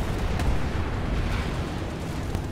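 Continuous heavy booming and rumbling from explosions on a rooftop in a video game battle, loud and dense throughout with no clear gaps and no voices on top.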